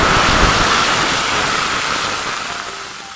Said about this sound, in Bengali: জিরেটার সাথে কিছুক্ষণ এই বাম্বুটাকে ভালো করে নাড়িয়ে নেব